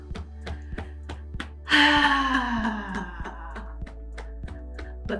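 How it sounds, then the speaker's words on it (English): A long, voiced exhale out through the mouth with a slightly open jaw, part of a cold and flu breathing routine, sinks into a falling sigh over steady, softly pulsing background music. "close your eyes and exhale out through your mouth"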